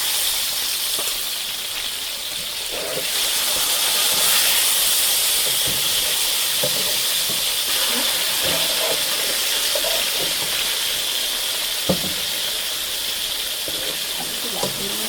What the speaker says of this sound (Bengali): আমি দুই গাছে মাছগুলো ভাজবো